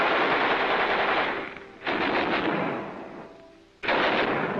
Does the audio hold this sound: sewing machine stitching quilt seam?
no